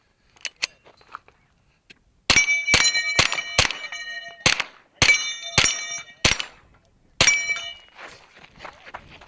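Pistol-caliber carbine shots at a 2-gun match ring off steel popper targets, a rapid string of sharp, loud clangs and pings with ringing tails, preceded by a few fainter distant shots.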